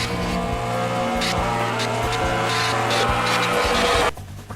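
Race cars in a NASCAR Racing 2003 replay roar past in a loud, continuous engine drone with pitch shifts. The sound cuts off abruptly near the end.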